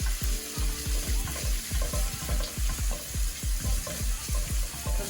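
Onions, garlic and ginger frying in a pan while being stirred for a vegetable rice dish, a constant bright sizzle under a regular beat of thudding, scraping spoon strokes about four per second, close and clear, no talking.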